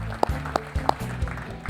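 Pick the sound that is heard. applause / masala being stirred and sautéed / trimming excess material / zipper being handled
applause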